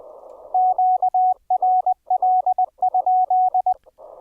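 Rapid Morse code keying as a steady high beep sidetone from a ham radio rig, sending quick dots and dashes in bursts over a faint hiss of radio static.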